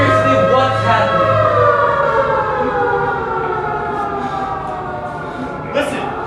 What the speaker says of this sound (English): Like Cold War nuclear bomb air raid siren?